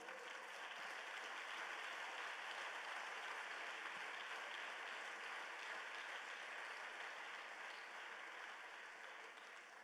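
A church congregation in Huila, Colombia applauds visiting brethren during a sermon, a long, even roar of clapping that holds steady for nearly ten seconds, fairly distant and soft.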